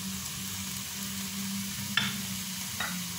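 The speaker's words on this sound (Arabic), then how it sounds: "نزيدو هاد الشامبينيون ها هو قطعناه، فزقناه وقطعناه" Chopped button mushrooms are stirred into a hot pan while cooking a Chinese-style noodle dish, with a steady close sizzle and a couple of brief utensil scrapes and knocks.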